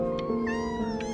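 A cat meows in the video game Before Your Eyes. One clear, drawn-out meow rises over quiet background music.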